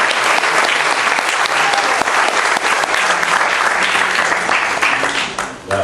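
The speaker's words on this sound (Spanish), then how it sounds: "Con un aplauso al Señor, al obispo de Viña del Mar." A church congregation in Viña del Mar applauds to welcome the bishop, with steady, dense clapping filling the space for several seconds before tapering slightly at the end.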